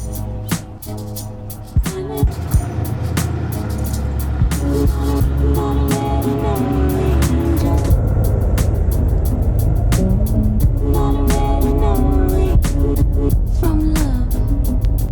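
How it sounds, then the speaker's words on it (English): A Chevrolet C1500 pickup truck driven into a shop, its engine idling and rumbling steadily up close with a few clunks early on, loud and without talk. "we'll get the truck pulled in here and start yanking the bumper off"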